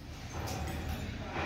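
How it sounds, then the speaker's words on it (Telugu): A small puppy whimpers and yips close by in a house, soft high whines running continuously over a muffled background. "చిన్న కుక్క పిల్ల వచ్చిందా?"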